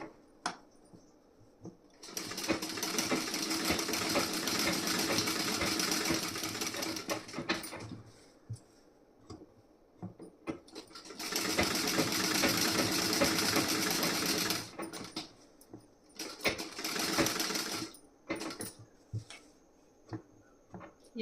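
A sewing machine stitches blouse fabric with a half-inch fold turned inside, running in two long steady bursts of several seconds each, then shorter stop-start runs and handling clicks close by.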